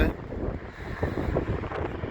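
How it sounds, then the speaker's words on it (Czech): Strong wind buffets the microphone outdoors on a spring day beside a mountain-bike race course, a steady low roar with gusty swells throughout and no voices. "A vítr fouká jak blázen, mi to spadne ještě."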